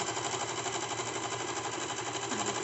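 A sewing machine runs continuously while stitching a cigar pant, a close, even, buzzing whir with steady rapid ticking and no pauses or voices.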